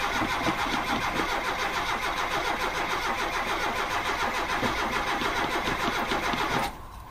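A car engine with a carburettor is cranked by the starter in a steady, loud, rhythmic churn for several seconds, which then stops abruptly. No talk is heard over it.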